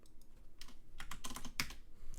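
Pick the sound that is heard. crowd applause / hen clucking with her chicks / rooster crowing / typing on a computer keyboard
typing on a computer keyboard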